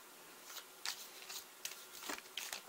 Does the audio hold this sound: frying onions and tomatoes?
no